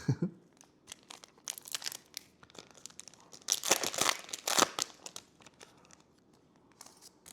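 Close crinkling and tearing of foil wrappers on CookieRun Braverse trading card packs, in irregular bursts with a louder stretch of ripping near the middle, no talking.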